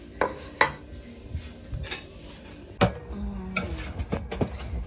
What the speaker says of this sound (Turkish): Bunları köpüklüyorum yıkıyorum.